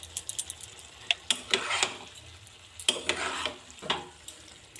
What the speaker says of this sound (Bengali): ভালোভাবে নাড়াচাড়া করে নিচ্ছি।